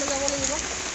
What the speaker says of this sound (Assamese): আৰু পুৰা বৰষুণ আহি গ'ল